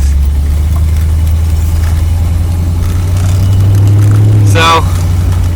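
A 1973 Corvette Stingray's engine runs steadily close by while driving, a deep continuous low rumble with a brief higher squeal near the end.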